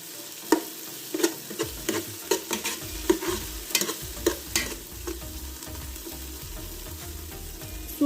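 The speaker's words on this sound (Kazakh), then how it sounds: "Мінекей біздің пиязымыз қуырылып жатыр томатпен." Onions fry with tomato paste in a pot for a vegetable soup, a soft sizzle punctuated by a dozen or so rhythmic spatula scrapes and stirs, close and fairly quiet, with no talking.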